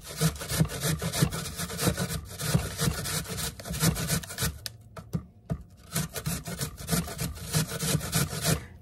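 An apple is grated by hand against a kitchen grater, a steady run of rough rasping strokes close up, pausing briefly midway before the rhythmic scraping resumes.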